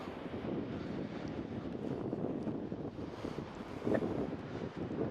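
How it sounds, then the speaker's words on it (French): Steady wind gusting over a choppy sea on a blustery morning, a continuous close rushing roar with microphone buffeting and a brief stronger gust near the end, with no voices. "Elle est un petit peu agitée ce matin parce qu'il y a quand même du vent."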